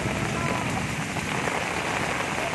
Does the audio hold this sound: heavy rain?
yes